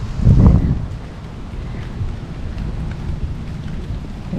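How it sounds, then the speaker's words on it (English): Steady rain with a gusty, wind-buffeted rumble, loudest in a brief burst near the start, then a constant wash of falling water outdoors in Fredericton, New Brunswick. "Oh, it's raining."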